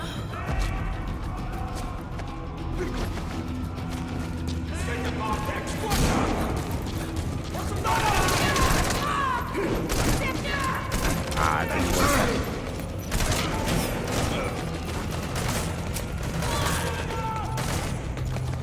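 Scattered gunshots and bursts in Metal Gear Solid V: The Phantom Pain, mixed with clanking mechanical game sounds and a voice talking over the action at moderate loudness.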